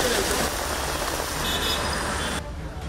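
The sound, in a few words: heavy rain in Bengaluru from Cyclone Fengal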